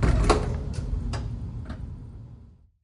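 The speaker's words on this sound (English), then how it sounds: "Doors closing." Elevator doors slide shut in a true-crime audio drama, a low rumbling glide broken by a few soft clicks and ticks, then fading into silence.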